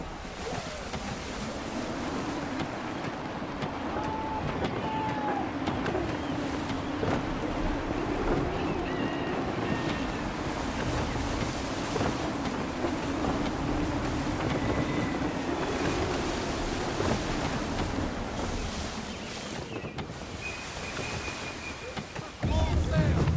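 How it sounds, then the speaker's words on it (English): Gusty wind and rolling waves surround a sailing ship at sea in Assassin's Creed III, a steady broad rush of air and water with faint creaks and game tones, swelling slightly near the end. "Gusty winds can be difficult to manage."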